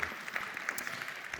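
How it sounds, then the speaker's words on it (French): A crowd at a tech awards ceremony gives brief, faint applause heard from some distance. "On les applaudit."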